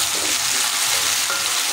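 Chopped tomato lands in a pan of frying potatoes for spinach-stalk curry and sets off a loud, steady sizzle close up, with no talking.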